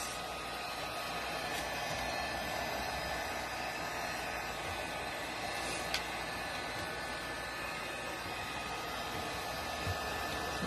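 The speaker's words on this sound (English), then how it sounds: "I find even the heat from the heat tool that you can even press down with it and get it to stick" Heat tool blowing hot air over decoupage, a constant soft hissing whoosh with a faint whine, steady and close throughout with only tiny clicks breaking the even drone.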